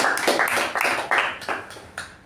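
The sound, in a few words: audience applause for the Sergeant at Arms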